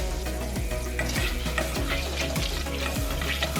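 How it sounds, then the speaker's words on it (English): Butter and garlic fry in a pan with a steady, close sizzle, broken by regular scraping strokes of stirring roughly every half second, with no voices. "Don't let your butter or garlic burn. Just for like a minute."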